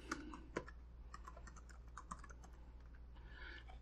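Typing on a computer keyboard while entering a custom log name in Azure log analytics setup, quick irregular key clicks, close and quiet, with no talk.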